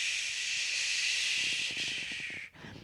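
A long, steady breathy shh exhale, close and hissy, trailing off at the end with a brief faint catch of breath.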